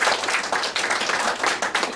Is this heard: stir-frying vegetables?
no